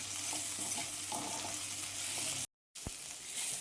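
Capsicum fry with spice powder sizzles in a pan while it is stirred, a soft, close frying hiss with light stirring scrapes; it drops out for a moment, then resumes with a sharp clink.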